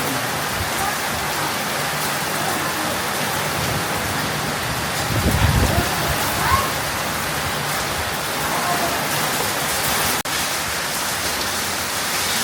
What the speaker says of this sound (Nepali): पोखरामा बबाल भयो पानी परेर